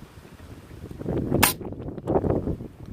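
A Webley Tempest air pistol fires a heavy pellet once, a sharp close crack followed by a brief low mechanical rumble and rattle, with no talking.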